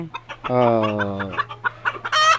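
A hen clucks in a drawn-out, rising call, as if laying an egg, followed by a few short clucks and a higher squawk, close by on a poultry farm with a steady low hum beneath.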